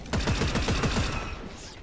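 Rapid gunfire bursts in a first-person shooter video game, a fast rhythmic volley of loud shots that runs steadily for most of the moment before tapering off, with no talk over it.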